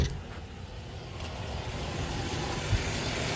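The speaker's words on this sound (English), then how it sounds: "Sounds like she's running like a top." A 2014 Honda Pilot engine idles smoothly, a low, steady rumble heard up close with no voices.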